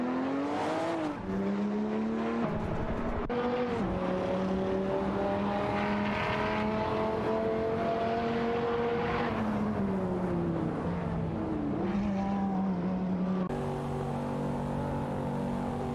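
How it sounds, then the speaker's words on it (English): Race car engines in an Assetto Corsa race, including a V16 and a Porsche 911 993 Carrera, scream loudly and continuously, their pitch rising and dropping through gear shifts as cars battle closely, with no talking. "The Assetto Corsa V16 and Porsche 911, 993 Carrera are pushing hard for positions in this close competition."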